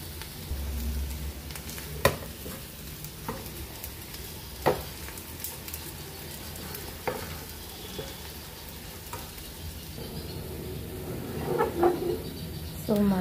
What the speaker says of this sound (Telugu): సో ఇప్పుడు వేయించి పెట్టుకుని ఫిష్ పీసెస్ వేసేస్తున్నాను.